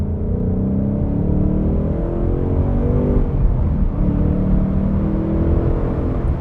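A 2022 Ford Mustang Mach 1 V8 pulls hard from inside the cabin, a steady loud low rumble and drone building through gears as it accelerates on an open road, no talking.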